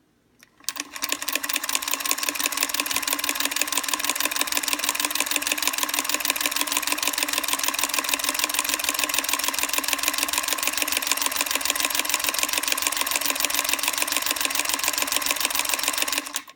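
A Betty Sue sewing machine stitching at a steady fast pace, a close, even mechanical whirring chatter that starts abruptly and runs without pause, then stops.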